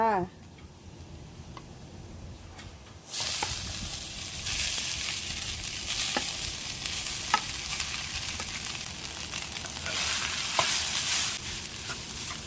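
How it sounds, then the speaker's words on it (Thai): Rice stir-fried in a pan with onions for chicken-less fried rice, a steady sizzle beginning after a quiet opening and continuing with scattered clinks of stirring, close and moderately loud. "ผัดข้าวให้หอมแล้วปรุงรสค่ะ"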